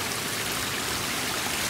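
A waterfall streams into a backyard koi pond, making a steady, close, broadband rush of falling water that holds even throughout with no voices.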